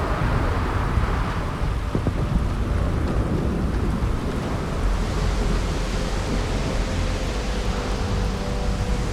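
A lightning storm rages over the city of Neon in the Starfield video game, with a dense, steady roar of rumbling thunder and rain-like wash that holds constant throughout.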